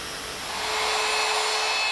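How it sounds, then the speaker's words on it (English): A circular saw spins up and bites into a pine countertop, its loud, steady whining roar building over the first second and then holding hard and even to the end. "I'll start with the circular saw and finish it up with the jigsaw."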